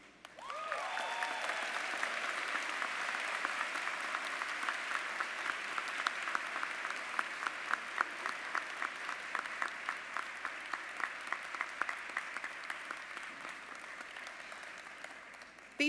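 A large crowd at a university undergraduate commencement ceremony applauds its award recipients, with sustained, even clapping that carries on for many seconds and slowly thins out toward the end.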